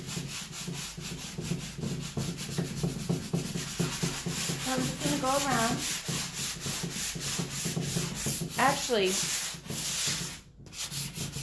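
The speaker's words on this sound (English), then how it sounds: "I'm also sanding to get a nice smooth finish" Steady rhythmic scratching of sandpaper rubbing back and forth on a painted surface, close up, with a person speaking briefly over it.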